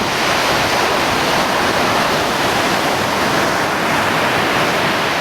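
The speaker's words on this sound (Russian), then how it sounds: "Море шумит прям." A continuous, dense roar of stormy sea surf at Gelendzhik on a windy January day, waves breaking heavily onto a pebbly shore with no pauses, close and loud throughout.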